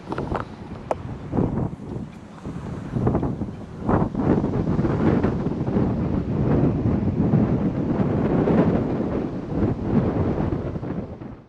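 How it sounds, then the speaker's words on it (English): Strong wind buffets the microphone beside a river next to fields, a loud, continuous broadband roar with gusting surges and no voices. "That wind is windy."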